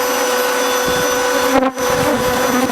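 Defensive honeybees swarming around a hive, a loud, dense, continuous buzzing drone close to the microphone, with brief louder passes of individual bees.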